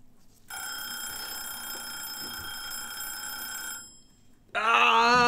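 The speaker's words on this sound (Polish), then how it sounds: "Zadzwoniło, nie wiem, czy słyszeliście to." Telephone bell ringing in one long sustained electronic trill for about three seconds, moderately loud, then a pause and the start of another ring.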